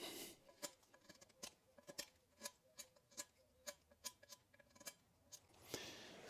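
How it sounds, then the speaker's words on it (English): An oversized pencil sharpener is turned on a pencil in a workshop, producing a quiet run of rhythmic clicking scrapes, about a dozen evenly spaced ticks, ending in a louder rustle with no talking. "I've got a pencil sharpener here, a little bit oversized"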